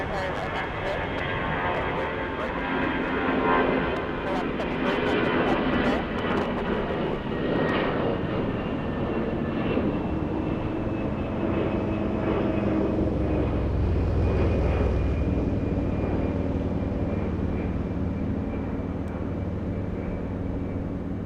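A jet airliner powers up for takeoff at Atlanta Hartsfield-Jackson airport, a broad steady engine roar with a whining tone that holds loud throughout, swelling slightly toward the end.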